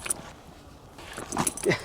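Rat-hunting dogs on a pheasant farm give brief whimpers and yips, close and moderately loud, with a faint jingle mixed in.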